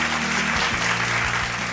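An audience gives loud, sustained applause to welcome a Bhojpuri actress onto the stage at a Patna audition show. The dense clapping lasts throughout, with a steady musical tone underneath.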